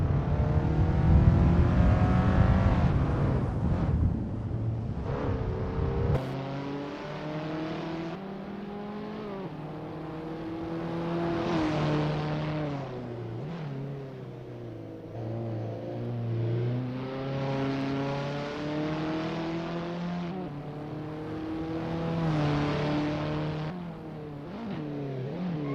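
Abarth 500 engine revving steadily through a practice lap in the Assetto Corsa racing game, its harmonic drone rising and falling with gear changes, loud and continuous throughout.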